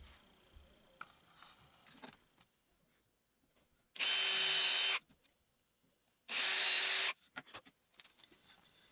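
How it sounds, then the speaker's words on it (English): A power drill boring holes in a solid maple king-size bed frame whirs loudly in two steady bursts of about a second each, separated by quiet handling clatter. "I'm going to go ahead and drill out these holes next"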